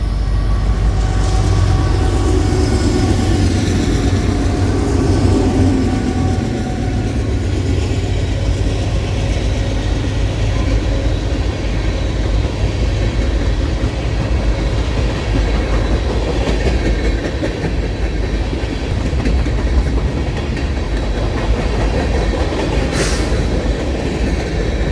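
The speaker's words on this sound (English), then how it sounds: "Sure enough, NS 45R, which is a rerouted grain train from Gainesville, Georgia, would roll through Central on its way to its destination of Mansfield," A Norfolk Southern rerouted grain freight train rolls past close by, a loud, continuous rumble with rhythmic clickety-clack of wheels over rail joints and a brief wheel squeal near the end.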